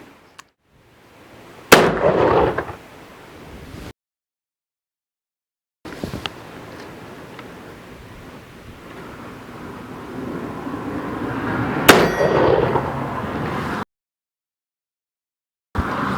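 An 1849 Pocket black powder revolver fires two loud, sharp shots outdoors, each a sudden crack followed by a long rolling echo, with near-silent gaps in between.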